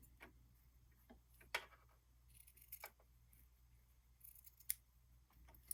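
Scissors trim quilt binding fabric on a small quilt, giving a few quiet, separate snips spread through an otherwise hushed room with no talking.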